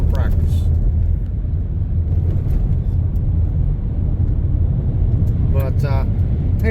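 Steady rumble of a car rolling slowly along a gravel road, continuous tire and engine noise heard from inside the vehicle with someone talking over it.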